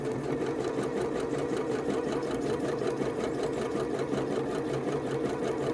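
A sewing machine runs continuously, zigzag stitching around the bottom hem of fraying fabric being altered for a Simplicity pattern; the steady mechanical whir is close and unbroken for the whole stretch, with no voices.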